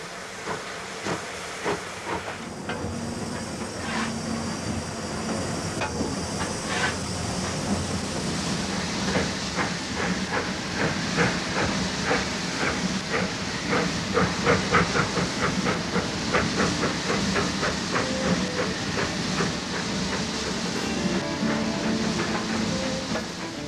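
A large steam locomotive, a restored engine rescued from a scrapyard, hisses loudly and steadily, with a rhythmic chuffing pulse and rail clatter running through it, close and continuous without speech.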